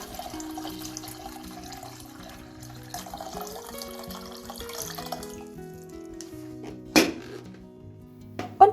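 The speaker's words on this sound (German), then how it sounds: "Frisches, gefiltertes Wasser bis zum Maximum auffüllen." Fresh filtered water pours steadily into an electric kettle up to the maximum line, its pitch slowly rising as it fills, followed by a couple of sharp knocks near the end.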